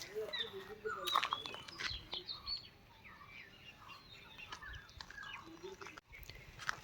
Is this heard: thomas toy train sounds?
no